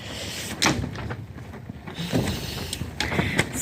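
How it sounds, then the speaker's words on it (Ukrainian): A door being closed in a greenhouse, with several scraping, creaking and knocking impacts spread irregularly across the span, moderately close. "Зараз закрию двері, щось відкриваються."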